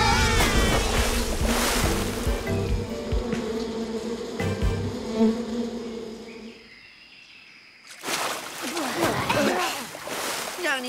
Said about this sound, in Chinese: 你怎么把蜜蜂招来了？